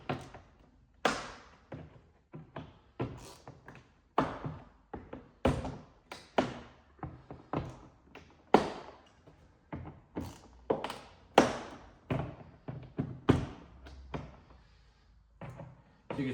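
Plastic door panel clips pushed into a Lincoln Aviator door during a window regulator replacement, a series of close, sharp thunks and taps in an uneven rhythm, some louder pops among softer knocks.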